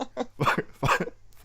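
Several short, harsh bursts of coughing from one person during a coughing attack, close to the microphone, spaced irregularly over a quiet background hum.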